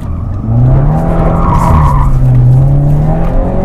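BMW F30 car drifting on paving blocks with its tires squealing; a loud, close, sustained screech over a rough engine roar that starts half a second in and holds steady to the end.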